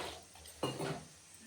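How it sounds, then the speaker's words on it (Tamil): A spoon scrapes and clinks against a pot while ground masala is stirred into vegetable kuzhambu, one sharp knock followed by a brief scraping stir, close and fairly quiet. "போட்டு காயோடு சேர்த்து மசாலாவை நல்லா கலக்கி விட்டுறலாங்க"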